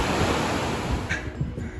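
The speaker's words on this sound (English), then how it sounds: "This is the mighty Dukosi River." Rushing water of the Dudh Kosi River on the Everest Base Camp trek in Nepal, a steady broad roar of fast flowing river close by, continuous and fairly loud with no voices.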